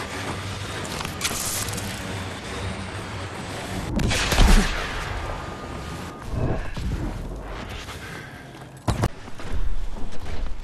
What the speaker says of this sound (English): Enemy bombing run incoming!